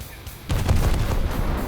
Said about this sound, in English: Shokaku has 5-inch guns.